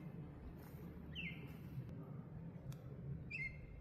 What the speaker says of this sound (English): Got the birds talking.